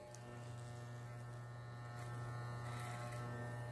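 An electric hair clipper buzzes steadily and close by while its tip marks the lines of a fade haircut, a constant electric hum with no talk over it.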